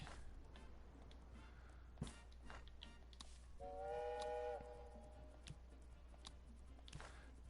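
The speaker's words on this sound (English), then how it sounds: "every time that whistle sounds, we are receiving another docked" In the game Tropico 6, a dock whistle gives one clear, sustained tonal blast of about a second, midway through faint, busy background ambience with scattered small clicks.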